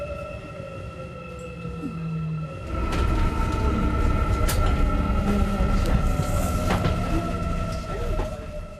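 A train rumbles and screeches as it slows arriving at Seoul Station, with a steady hum and metallic squeals growing louder, then settling into a heavy rolling noise.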